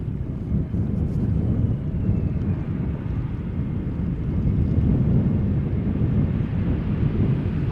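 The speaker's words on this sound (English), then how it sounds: "Another A320 Neo from EasyJet," An EasyJet Airbus A320neo arriving at Amsterdam Schiphol from Manchester rumbles as a steady, loud low roar for the full stretch, with wind buffeting the microphone and no talking.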